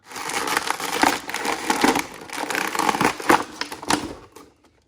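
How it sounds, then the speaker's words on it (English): A Thanos action figure is pulled from its packaging, making close, crackling crinkles, snaps and rustles in irregular bursts that fade out at the end. "Let's get Thanos out of the packaging."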